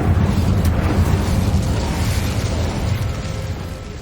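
An Incendio fire spell cast in Hogwarts Legacy lets out a loud, dense whoosh and rumble of flame, with a burst near the start. It holds strong and low for about four seconds and no one talks.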